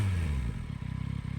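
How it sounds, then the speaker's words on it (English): A Yamaha MT-09 motorcycle engine's intake sound rises briefly, then settles into a steady, pulsing mechanical throb at close range. "speakers for you to hear the intake howl of the motor"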